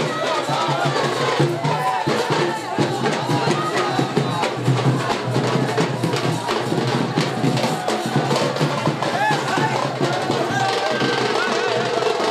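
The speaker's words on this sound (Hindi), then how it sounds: "बसपा प्रत्याशी के नामांकन जुलूस में जुटी ऐतिहासिक भीड़" A large, dense crowd fills a BSP candidate's nomination procession in Mirzapur, a continuous roar of voices and shouting that carries on without a break.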